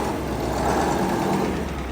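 A new Bizon tractor on its first outing labours hard as it climbs during a field test, its engine giving a steady, loud, rough drone with no break, close by and without voices.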